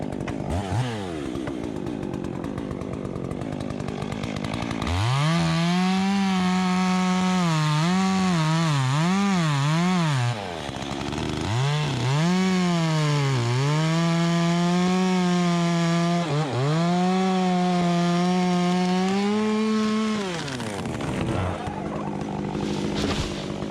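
A chainsaw cuts storm-damaged tree branches over a driveway, the engine idling then revving hard and bogging repeatedly as it bites into wood, loud and close, with no talking.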